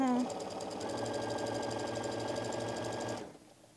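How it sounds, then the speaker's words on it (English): A sewing machine stitches quilt fabric pieces together in a steady, rapid mechanical whir for a few seconds, then stops abruptly. "Put it through the sewing machine"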